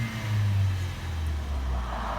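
The 2.0 engine of a 2014 Kia Forte with a random misfire, running close by as a loud, steady low hum with a slight rise in pitch at the start, heard alone.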